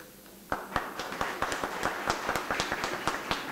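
An audience at a school alumni reunion claps in a loose, rhythmic pattern of sharp individual hand claps, starting abruptly and continuing at a steady beat, fairly close and clear with no talking.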